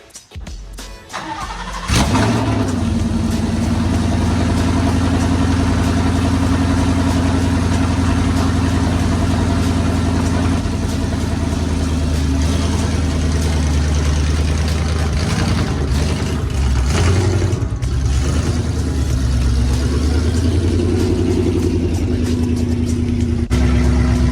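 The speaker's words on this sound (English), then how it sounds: "Let's get a little cold start on the Mustang" A cammed Ford Mustang GT fires up from cold with a sharp starter catch, then settles into a loud, steady, choppy idle with a lopey rumble that holds near and constant, with slight shifts in pitch later on.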